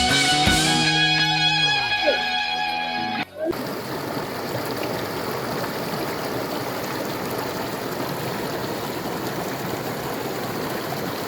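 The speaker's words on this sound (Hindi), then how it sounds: "बस पहाड़ों से निकलती ये नदी और उसकी मधुर आवाज़" A mountain river at Sonamarg, Kashmir rushes in a loud, steady broadband roar after a few seconds of music at the start.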